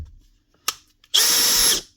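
A Makita DHP484 combi drill set to low gear in drill mode, with an Allen key fitted, gives a brief blip and then a steady close-up whir of about half a second before spinning down, with no talking.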